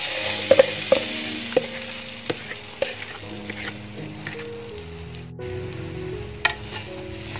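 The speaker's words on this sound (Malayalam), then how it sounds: "അത് ഇളക്കിക്കൊണ്ടിരിക്കണം കേട്ടോ," Rice flour batter is stirred in a hot kadai for a crispy snack, with a spoon scraping and clinking while the batter sizzles and bubbles steadily, close up.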